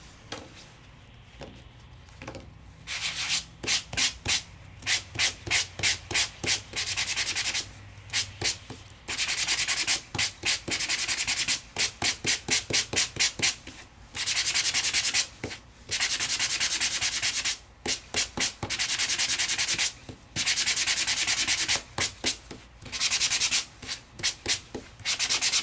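Hand sanding a paper craft project made with Crafter's Companion dies and stencils, a long series of close, loud rhythmic scratching strokes in quick bursts with brief pauses between them, and no one speaking.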